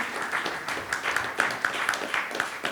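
Scattered, moderately paced clapping from a small group at a youth quiz competition results announcement, individual claps standing out rather than a roaring ovation.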